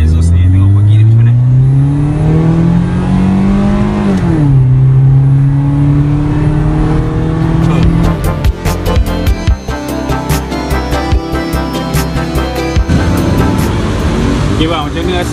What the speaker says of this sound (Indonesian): kita try dengar exhaust ni, tengok bagi dia macam mana.